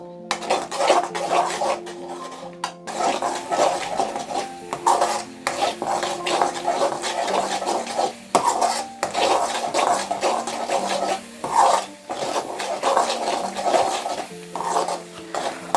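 Puliyogare masala paste stirred and fried over a medium flame, a spoon scraping steadily against the pan with continuous sizzling and rhythmic metallic stirring, close and fairly loud throughout.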